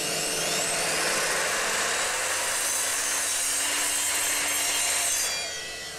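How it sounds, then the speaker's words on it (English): A power saw cuts steadily through plywood to a rough length, a loud close continuous whining rasp that runs for about five seconds before winding down. "Then I could cut a few pieces of plywood to a rough length."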